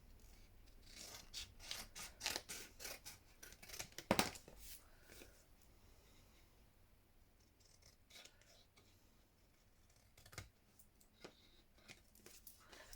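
Scissors snip through paper ephemera for a junk journal in a quiet room, with a run of short close cuts and rustles followed by softer handling and a few later snips.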